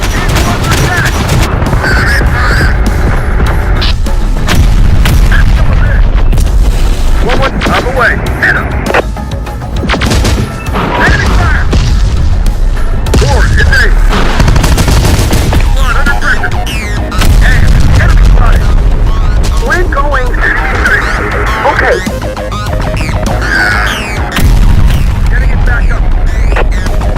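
Enemy gunfire and explosions from Terminator: Dark Fate - Defiance keep up a loud, dense barrage of shots and booms throughout, with occasional radio-style voices calling out over the battle.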